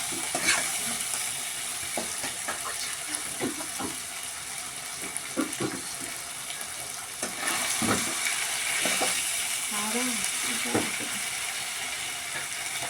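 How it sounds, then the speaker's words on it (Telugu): Tomatoes frying with chicken in a pan, a steady sizzle broken by repeated scraping and clacking of a stirring spoon at an uneven rhythm, fairly close. "టమాటా వేసి బాగా వేసుకోవాలి ఫ్రెండ్స్"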